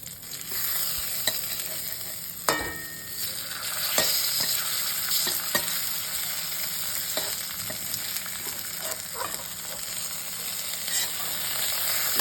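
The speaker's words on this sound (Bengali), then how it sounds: "খুব কম তেলে সিমটা ভাজা করছি" Flat beans fry with salt and turmeric in very little oil, a continuous crackling sizzle with occasional scrapes and taps of stirring, steady and close, with no voices.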